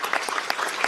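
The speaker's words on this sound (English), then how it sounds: "Let's clap for him once again." An audience claps for a guest at a gathering, a dense steady patter of many hands over one second, close and fairly loud, with no one speaking over it.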